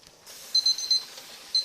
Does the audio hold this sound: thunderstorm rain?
no